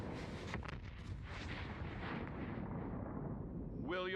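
A bomb blast from a video game trailer shown at a Bethesda E3 2018 presentation: a deep, rumbling explosion with a long booming decay, followed by a short burst of voice at the end.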